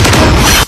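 A single loud, close gunshot or blast from an action film: a dense booming burst lasting just over half a second before it cuts off abruptly.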